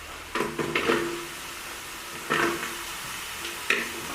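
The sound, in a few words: chopped onions added to pan and frying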